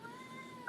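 A pet cat gives a drawn-out meow with a wavering, tonal cry, faint and held over a low background hum, with a brief higher squeak at the end.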